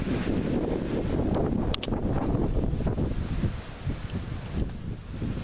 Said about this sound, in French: J'ai l'impression que les rafales s'intensifient